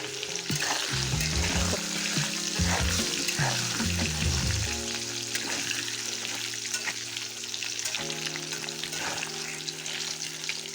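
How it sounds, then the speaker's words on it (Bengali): Potatoes frying in oil with salt and turmeric, a steady close sizzle with stirring and scraping throughout, while low tonal background sounds run beneath the frying. "লবণ আর হলুদ দিয়ে একটু ভেজে নিই"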